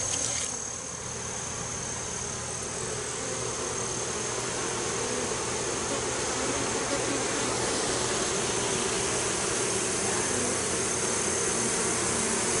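Bees buzz steadily and densely at an open hive during an inspection after a flood, a constant close swarm drone with no pauses and no talking.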